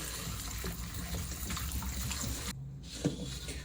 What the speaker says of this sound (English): first we're gonna wash our potatoes. Make sure we get all that dirt off of them.